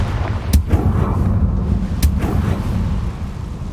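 Confringo blasting spells from Hogwarts Legacy explode in two sharp, loud bursts, each with a brief rumbling tail, over a steady low game ambience.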